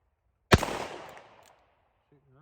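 A Smith & Wesson 686-6 Plus .357 Magnum revolver with a 4-inch barrel fires one loud, sharp shot outdoors. The report decays over about a second, and a faint voice follows afterward.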